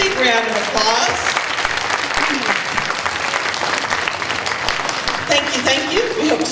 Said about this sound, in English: Please give our certificate earners a big round of applause.